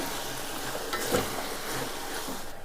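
Jackfruit and jaggery cooking down in a pan, the melted jaggery bubbling in a soft, steady sizzle with one brief stir or scrape partway through, fairly quiet and close, no voices.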